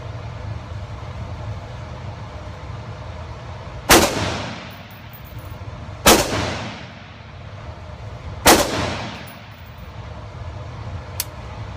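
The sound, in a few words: M1 carbine and AR rifle gunfire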